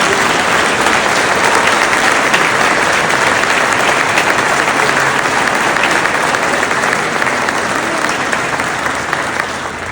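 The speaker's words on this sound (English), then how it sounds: "please give a great round of applause for our honored guests and both new and old inductees" An audience applauds at the 2025 CSHF induction ceremony, a loud, dense and steady wave of clapping that holds for the whole stretch, easing only slightly at the end.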